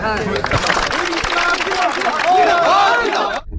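An audience at a political meeting applauds, a dense rolling patter of clapping mixed with crowd noise and voices, fairly loud and fading out at the end.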